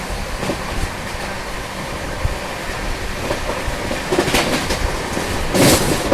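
The Vidarbha Express, an Indian passenger train, rushes past under its locomotive with a loud, steady roar of rolling wheels and wind, the rumble swelling toward the end.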